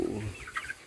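A farm chicken gives a few short clucks at close range, brief and moderately loud, over a low rumble of background noise as people try to catch birds.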